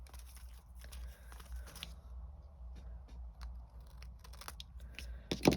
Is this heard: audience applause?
no